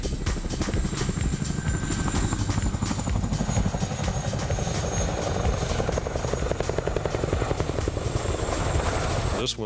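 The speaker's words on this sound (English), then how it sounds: "the Chinook the most versatile military helicopter" A Boeing CH-47 Chinook tandem-rotor military helicopter runs close by, with a loud, steady rotor throb and engine whine holding throughout, dense pulsing chop over a constant turbine hum.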